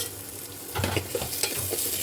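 Onions frying in a spoonful of oil for drumstick sambar, stirred in the pan with a steady sizzle and a few louder scraping stirs after the first moments, close and without talk.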